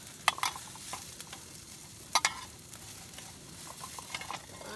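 Food fries in butter in a pan at a lakeside kayak campsite: a soft, steady sizzle broken by a few sharp clinks and scrapes of a utensil.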